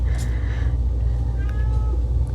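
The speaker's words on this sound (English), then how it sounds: "the cat has something to say" Indoors, a house cat meows a couple of times, fairly close, over a steady low hum in a quiet room.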